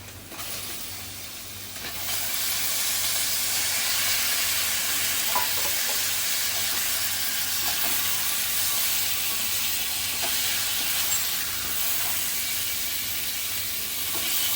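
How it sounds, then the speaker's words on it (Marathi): Steam hissing steadily from a pan of chicken lapeta cooked with onion, ginger and garlic paste over a medium gas flame; a constant broad hiss rises after about two seconds and holds without talk. "गॅस मिडियम करून चांगली वाफ काढायची आहे"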